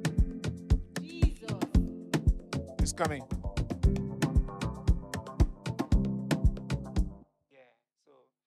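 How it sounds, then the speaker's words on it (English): Punchy drum pattern with a building fill in an Afrobeats-style production, rhythmic hits layered over bass and synth for about seven seconds, then dropping out as a voice speaks briefly near the end. "just some drums to spice things up there"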